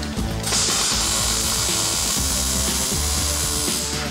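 A wire-feed welder buzzes and crackles steadily while tacking a metal wrap in a basement renovation, one loud sustained sizzling burst lasting several seconds with a brief pause near the start.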